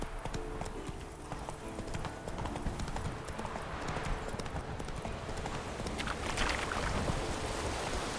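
Horse hooves gallop in The Witcher 3 video game, a fast steady clip-clop rhythm running throughout under a soft outdoor ambience, fairly quiet and close.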